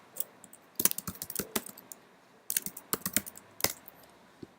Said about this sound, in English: I'm going to just type the label name as